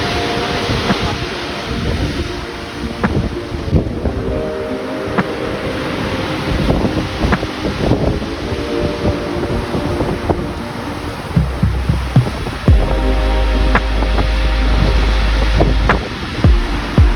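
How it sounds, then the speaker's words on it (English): Ocean waves and wind along a rainy coast, a loud, continuous roar of surf with buffeting wind noise on the microphone and occasional heavier gusts, with no voices over it. "This is the sound of the ocean waves."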